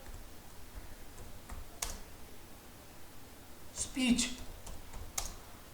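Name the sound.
typing on a computer keyboard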